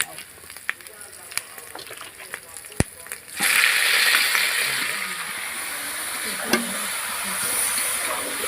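Clicks and light taps over quiet sizzling, then a sharp knock as meat goes into a pot of cooked spice masala with green chilli, bursting into a loud, sustained sizzle with steam that continues to the end.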